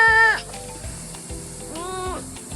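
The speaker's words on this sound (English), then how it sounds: "It's a sloth." A sloth hanging still in a jungle tree gives two soft, high, wavering calls, one at the start and one near the end, over a low pulsing background.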